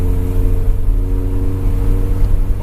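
An Alfa Romeo GTV engine revving hard to maximum revs in third gear on a hill climb, a loud, close, steady drone with throbbing low harmonics and no pause.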